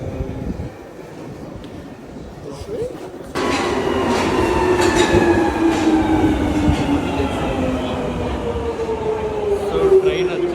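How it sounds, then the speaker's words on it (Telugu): A London train pulls into a station: after a quiet platform start, a loud rumble rises suddenly, with long screeching wheel and brake tones sliding over rolling clatter as it arrives. "సో ట్రైన్ వచ్చేసింది."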